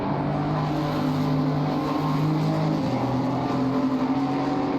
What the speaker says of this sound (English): that's why you hear all of that weird sort of engine cutting